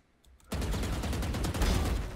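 Rapid gunfire in the video game Valorant bursts in after a near-silent start, dense and loud, with repeated shots close together for about two seconds.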